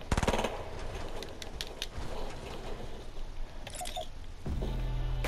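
Rapid automatic gunfire in the video game Fortnite, a fairly faint, continuous rattle of shots lasting several seconds, with a few sharper cracks near the start.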